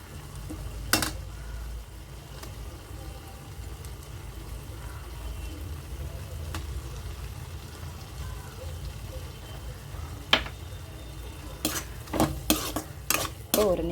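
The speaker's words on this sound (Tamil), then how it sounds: "அந்த மசாலாவோட மட்டன் நல்லா மிக்ஸ் ஆகணும்." Mutton is stirred with tomato masala in a pan, with a soft, steady sizzle and the occasional sharp scrape and clink of a spoon against the metal, coming in a quick cluster near the end.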